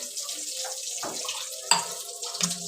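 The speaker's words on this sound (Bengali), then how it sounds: "আর একটু জল দিয়ে দেবো" Water pours from a tap into a pan of Bengali prawn malai curry, a brief splashing trickle with a couple of sharper clinks near the end, heard close and fairly quiet.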